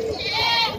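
A goat bleats at a goat farm where upgraded breeds of bucks are sold, a single close, sustained, nasal call with faint voices in the background.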